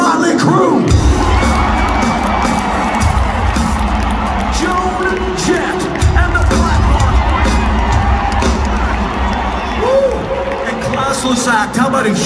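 A huge stadium concert crowd at a show at US Bank Stadium in Minneapolis roars with cheers, whoops and applause throughout, loud and dense, while an amplified voice speaks over the noise.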